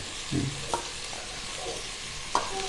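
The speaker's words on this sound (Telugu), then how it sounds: "పుదీనా వేసుకొని కలుపుకోవాలి" Mint leaves are stirred into a mixture frying in a pan, a quiet steady sizzle with a few brief utensil knocks and scrapes, close and faint.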